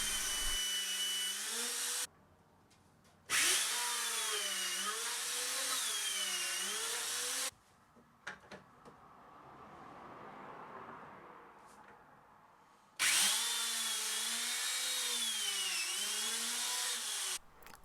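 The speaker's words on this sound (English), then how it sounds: "I was going to use my dowel joiner for this" A dowel joiner plunging dowel holes into wood pieces from an old door: loud whining motor bursts with wavering pitch, broken by short quiet gaps and a softer stretch of handling noise, heard up close with no speech.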